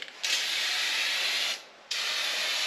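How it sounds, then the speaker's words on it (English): Primer sprays from an aerosol can in two bursts, a long steady hiss, a short pause, then a second hiss, close and loud, during restoration work on a 1989 Club Car golf cart. "I'll show you how this stuff's spraying."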